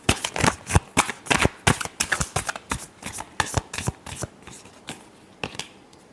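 Tarot cards are shuffled close up in a quick, uneven series of crisp riffles and slaps, loud and alone, gradually slowing toward the end.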